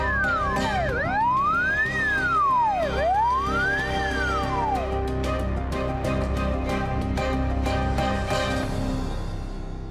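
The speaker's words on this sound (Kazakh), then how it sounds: "Қосымша міне қазір өрт сөндіру көлігі де келе жатыр." A fire engine's wailing siren sweeps up and down repeatedly, loud and close, over steady traffic rumble before fading into busy street noise.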